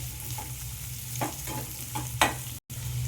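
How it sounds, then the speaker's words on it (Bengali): Beans and capsicum lightly frying in a pan for a vegetable dal, a steady close sizzle broken by several soft scraping stirs of a spoon across the pan. "এগুলো আমি হালকা করে ভেজে নেব।"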